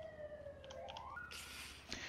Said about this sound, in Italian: ho scaricato un pacchettino di sirene. Quindi le sirene saranno custom